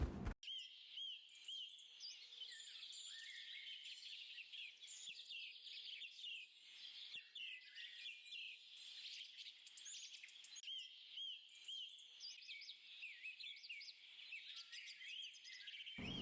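Birds chirp and tweet continuously, a lively chorus of quick high calls at a moderate distance with no other sounds.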